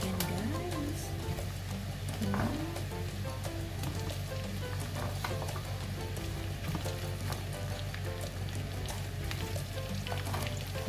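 Marinated chicken pieces frying in a hot pan, a loud, continuous sizzle and crackle with occasional stirring clatter, close up and steady throughout, with faint voices now and then.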